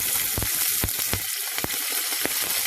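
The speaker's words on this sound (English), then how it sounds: "So I've now saute fried the chili and the curry leaves." Curry leaves and green chili sauté-frying in a pan, a steady hiss of hot oil broken by several sharp spitting pops at irregular intervals, close and with no one talking.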